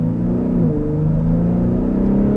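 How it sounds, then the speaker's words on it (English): Exhaust of a 2022 Ford F-150 Raptor pickup revving, a loud, close, steady low rumble with a brief pitch rise and fall partway through, heard alone without voices. "oh, the exhaust sounds so good"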